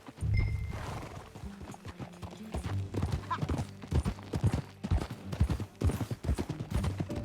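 Rhythmic clip-clop of horse hooves trotting, with occasional whinnies and a few distant pops, steady and fairly close, no talking, in the video game Red Dead Redemption 2.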